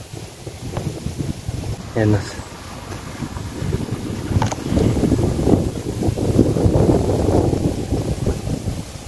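Wind blowing across an exposed hilltop, a steady broadband rush and buffeting against the microphone that swells louder through the second half, with someone talking over it.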